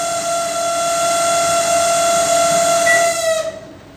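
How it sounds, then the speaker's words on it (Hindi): An LG 20-litre microwave oven running with an abnormal noise gives off a loud, steady tonal whine with layered overtones that holds for about three seconds, then cuts off abruptly. "देखिए इस तरह की साउंड जो आती है, माइक्रोवेव ओवन एलजी का मॉडल है 20 लीटर"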